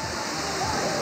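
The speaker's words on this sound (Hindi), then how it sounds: "वादिये बोलान की खूबसूरत आबशारें और झरने" Waterfalls and streams in the Bolan valley pour out a steady, full rushing wash of falling water, continuous and fairly loud throughout the short stretch.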